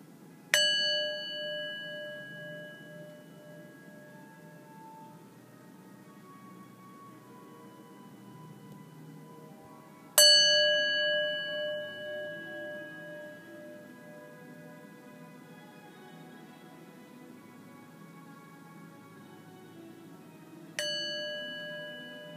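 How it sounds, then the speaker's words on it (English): A meditation bell is struck three times at roughly ten-second intervals, each strike a clear bright ring that decays slowly into a long fading hum in a quiet space. "just listen to the bell and bring this vibration"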